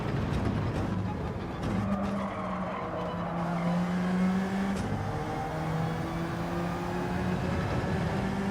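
An Alfa Romeo race car in Gran Turismo 7 roars continuously at high revs, its engine pitch climbing and dropping through gear changes with tire squeal mixed in, no voices over it.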